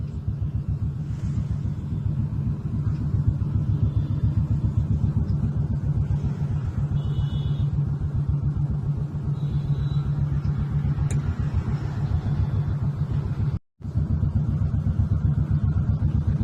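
Stalled evening traffic on the Koregaon Park bridge in Pune, a constant low engine rumble from nearby idling vehicles, steady and unbroken apart from a momentary dropout near the end, with no talk.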